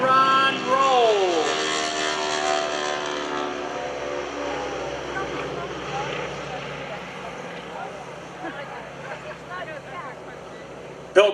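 A Stearman biplane with a Continental radial engine performing aerobatics at an airshow, its engine drone rising and falling in pitch as it maneuvers, with a voice talking over it.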